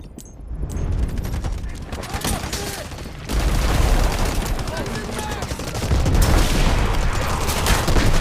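Artillery barrage in the Delta Force video game: dense, continuous rumbling blasts and rapid gunfire, growing louder partway through and staying heavy to the end, with voices in the mix.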